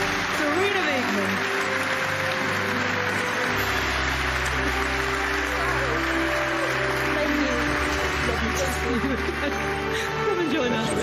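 Arena applause greets UEFA Women's Coach of the Year Sarina Wiegman at the Champions League group draw, sustained clapping running beneath talk and a low musical backing.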